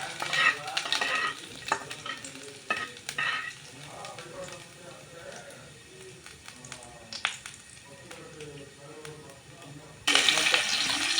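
Chopped ginger and garlic sizzle and fry in hot oil while a spoon stirs and scrapes the pan, a steady close crackle with brief clinks and a louder burst of sizzling at the end.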